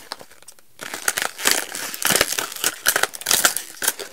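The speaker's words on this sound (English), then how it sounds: "So we're going to cut this open quick." Crinkling and cutting of a plastic package of 36 wedges, starting after a brief quiet moment and then going as irregular sharp rustles and snips close by.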